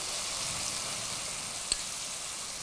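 Vegetables sizzle and fry steadily in a pan as tamarind water goes in for a Bengali chapor ghonto, with one brief louder splash-like hiss partway through over the continuous crackle.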